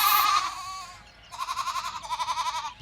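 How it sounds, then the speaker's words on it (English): A goat bleats twice: a loud wavering cry, a short gap, then a second trembling bleat, close and clear with no talk. "But goats are blocking our way."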